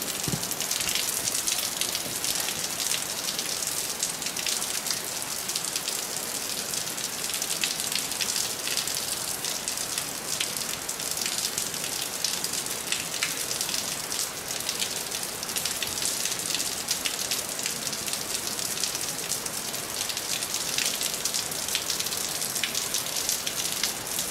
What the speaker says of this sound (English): Look underneath the waterfall.